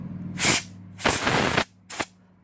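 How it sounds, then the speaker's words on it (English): Three short hissing sprays from an aerosol cleaner on an iPhone 8 earpiece, close by: a brief burst, a longer one, then a quick final puff, with quiet gaps between. "So I'm just gonna clean it with this"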